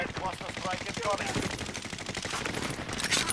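Rapid gunfire from a video game shooter, a loud burst of repeated shots running through the whole stretch, with faint voices mixed in.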